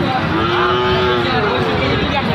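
Cattle, including a Sahiwal bull calf, low steadily at a busy border cattle market, with one drawn-out moo over a loud, dense crowd murmur.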